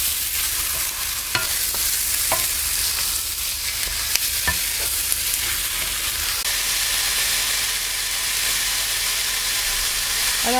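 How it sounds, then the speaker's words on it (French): Veal pieces browning in a pan for a blanquette, a constant close sizzle broken by occasional sharp scrapes and knocks of stirring. "on ajoute la viande qu'on va faire également blondir"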